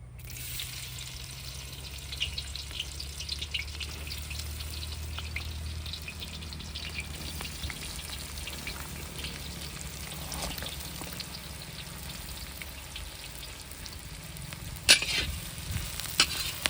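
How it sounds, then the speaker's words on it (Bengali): Chopped onion with chilli, turmeric, cumin, bay leaf and meat masala frying in a kadai, a steady soft sizzle with occasional stirring scrapes, and a sharper clink near the end. "আমরা পেঁয়াজটাকে হালকা লাল লাল করে ভেজে নেব"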